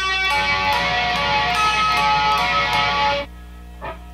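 Electric guitar playing a fast repeated picking pattern from a song's solo, a busy bright run of notes that stops abruptly, followed by a faint brief pluck; no talking.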